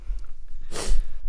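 A single short, sharp nasal sniff or snort, breathy and close, surrounded by quiet room tone.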